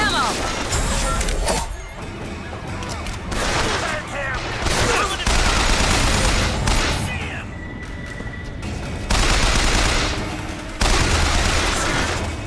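Gunfire in Bioshock Infinite, repeated loud fusillades of shots in bursts separated by short lulls, with mechanical clatter and talking mixed in.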